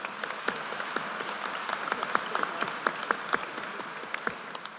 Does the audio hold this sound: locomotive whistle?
no